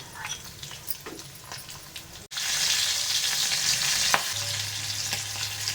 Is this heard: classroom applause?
no